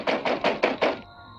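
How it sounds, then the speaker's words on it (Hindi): Five firm knocks on a room door in a steady, evenly spaced rhythm, close and clear, followed by a short quiet tail. "किसी ने भीखू के कमरे का दरवाजा खटखटाया।"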